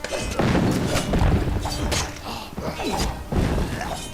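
Cannonball impacts in the game Reckoning, several heavy booming crashes and thuds at close range in dense battle noise, with no talking.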